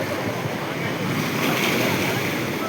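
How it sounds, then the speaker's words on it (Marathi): Rough sea waves surge and crash onto the shore in a continuous loud roar of churning water, mixed with gusting wind buffeting the microphone. "किती भयंकर पाणी आहेत, किती जोर आहेत पाण्यात."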